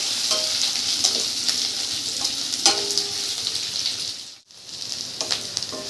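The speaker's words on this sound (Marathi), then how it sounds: "कांदाही आपल्याला अगदी लालसर मस्त भाजायचा आहे" Onion frying in a pan for dhaba-style egg masala, a steady bright sizzle with a few soft utensil clicks, briefly dipping quiet near the end before the sizzle resumes.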